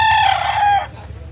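A rooster crows once at a chicken market in Cebu, a loud, close call lasting under a second, then fading to low market chatter and background noise.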